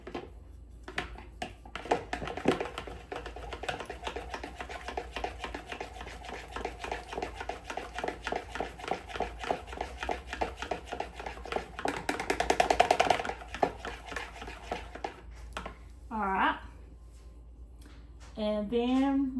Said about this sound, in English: Let's whisk these together.